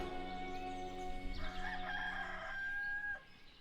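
A rooster crows with a long, drawn-out call over a steady tonal hum, with soft clucking in the background, clear and fairly close, in the video game Ostriv.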